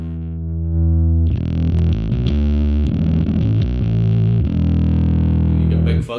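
Electric bass played through a Lounsberry Mo Bass pedal with the distortion turned up, giving a thick fuzzy sustained tone with several changing notes, loud and close, ringing out alone before cutting off.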